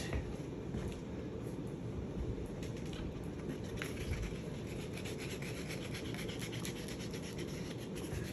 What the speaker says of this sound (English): I'm using a really fine sandpaper because that'll also